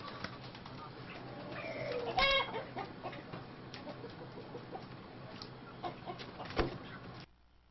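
Chickens on a farm cluck softly over a steady background, with some wing flapping and a few louder calls.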